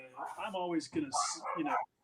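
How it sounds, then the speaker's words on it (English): Two or more dogs bark and yip excitedly in quick, overlapping bursts, close and fairly loud, with whimpering edges, before cutting off abruptly. "The dogs are going nuts."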